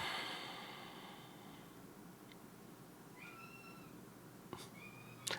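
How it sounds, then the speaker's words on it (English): A cat yowls and meows intermittently in the background of a quiet indoor room, faint and distant, with a few short rising cries near the end. "My cat's like yelling in the background."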